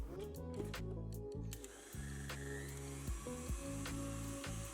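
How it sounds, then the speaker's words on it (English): A stand mixer whips Swiss meringue buttercream with a steady, droning motor hum and rhythmic whisk churning, continuous and close, with brief clatters near the start. "So after you've whipped your buttercream for around 5 minutes, take off the whisk head and put on a regular paddle attachment."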